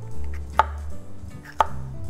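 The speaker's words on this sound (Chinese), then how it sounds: "切洋葱" A knife chopping onion into strips on a cutting board: two distinct, sharp chops about a second apart, close and clear over faint background hum.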